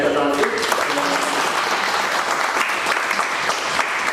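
Office department applauding a departing colleague, Mehta: a loud, steady burst of group clapping lasting several seconds, dense and continuous, with a voice briefly audible at the start.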